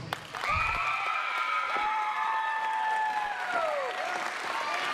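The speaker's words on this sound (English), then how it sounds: "Everybody give Spi-Ral an applause." Wrestling crowd applauding at a GCW event after Spi-Ral retains the Middleweight Championship against Cory Hollis: dense, steady clapping fills the whole stretch at close, loud level, with a sustained high whistling tone riding over it and sliding down near the end.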